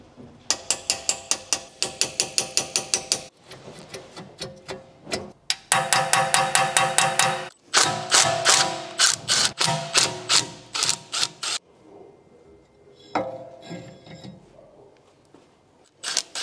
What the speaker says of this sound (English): And then we're going to take these two bolts out and then pull the brake disc off